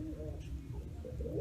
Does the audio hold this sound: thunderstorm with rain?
no